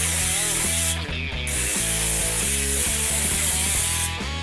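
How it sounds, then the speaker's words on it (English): Cooking spray hisses from a can onto an air-fryer pan held over a sink, a loud continuous spray broken by two brief pauses, over a low tonal background. "I'm just going to spray it into the sink so we get a nice coating"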